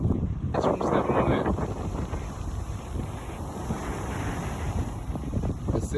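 Big Pacific Ocean waves at Waimānalo beach, a steady loud roar of surf heavy with wind buffeting the microphone, continuous throughout.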